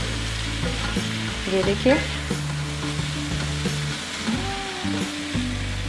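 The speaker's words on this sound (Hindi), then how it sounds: "अब हम इनको मीडियम हीट पर थोड़ी देर के लिए स्टार फ्राई करेंगे" Egg fried rice ingredients stir-fry on medium heat, with a loud, continuous sizzle and the scrape of stirring over background music, and a voice speaks briefly.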